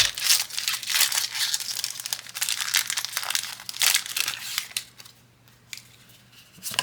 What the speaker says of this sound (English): Let's go ahead and open up the bonus pack.